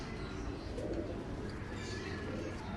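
Pigeons cooing softly at a breeder's loft, a low steady murmur of several birds mixed with faint chirps and background noise, with no one speaking.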